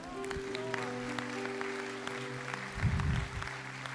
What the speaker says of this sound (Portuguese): Vai aplaudindo a Deus